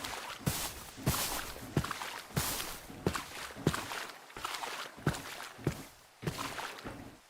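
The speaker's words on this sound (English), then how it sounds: "my footsteps sound light as fuck" Light player footsteps in a video game, a steady series of about eleven soft, evenly spaced steps heard up close with no talking over them.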